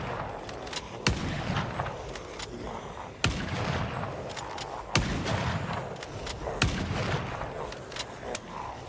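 Rapid gunfire from an online shooter game set around Raven Creek, with repeated sharp shot bursts about every two seconds over a dense, rumbling battle bed of continuous firing.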